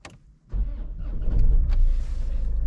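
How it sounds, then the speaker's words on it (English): A 2012 Land Rover Freelander engine cranks and catches after a brief quiet moment, then settles into a steady, close, rumbling idle. "I'm going to start the car."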